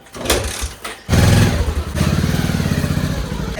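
A motorcycle engine catches after a couple of thuds and then runs loud and close with a fast, even chugging idle.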